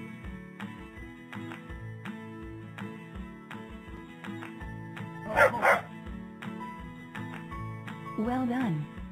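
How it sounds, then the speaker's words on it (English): A cartoon dog barks in the Baby Hazel animal-learning video game: a short burst of yapping mid-clip and another near the end, over steady, cheerful background music. "Dog."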